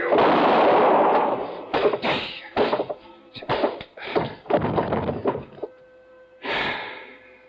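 Gunfire in an old-time radio detective drama: several sharp, loud bangs and thuds in an irregular burst, with a heavy blast first and another bang after a brief pause, no voices.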